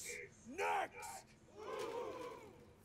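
Soldiers in a battlefield scene of Assassin's Creed Odyssey let out a rousing group cheer and battle cry, a crowd yelling together in two swells, the second longer and fuller.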